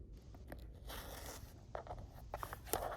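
A rotary cutter slicing through the sides of a cotton quilt block on a cutting mat, giving short close crunching and scraping strokes that grow louder and more frequent toward the end, with no talking.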